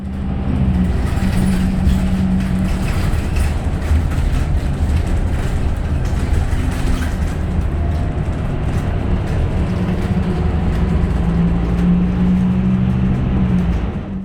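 A Scania K310UB bus drives steadily with a loud, continuous engine drone and road rumble, its pitch shifting slightly as it moves, with no voices.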